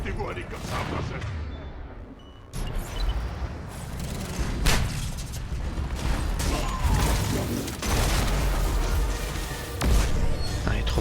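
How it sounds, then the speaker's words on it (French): Mecha explosions and gunfire in the video game Mass Effect 3, a chaotic run of booms, crashes and bursts of shots with mechanical clanking, mixed with voices talking throughout. "J'avoue que j'aime bien les explosions de mecha"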